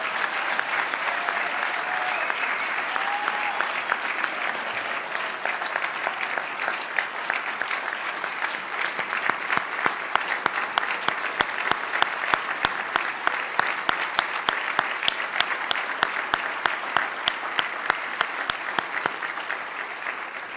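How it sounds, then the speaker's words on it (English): Sustained audience applause filling a hall at a Hall of Fame ceremony, dense and steady clapping from a large crowd that grows sharper and more rhythmic toward the end, with faint voices mixed in. "a big round of applause for the class of 2022"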